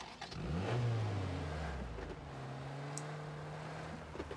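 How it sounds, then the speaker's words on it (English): Car engine in PUBG revving up and pulling away, a loud mid-pitched growl that climbs quickly then settles into a steady drone, close and alone. "Okay, I'm gonna grab this car."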